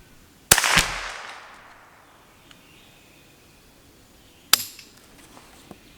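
Two sharp rifle shots from a Kidd 10/22 firing Eley Contact ammunition, roughly four seconds apart, close and loud with a brief decaying echo after the first.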